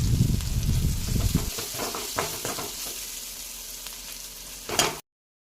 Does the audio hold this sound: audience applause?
no